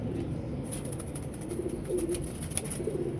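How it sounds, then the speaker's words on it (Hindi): Teddy pigeons cooing softly in a low repeated burble under steady background hiss and faint chirps, fairly close but quiet, with no voices. "ये जी माशाल्लाह टैडी कबूतर है"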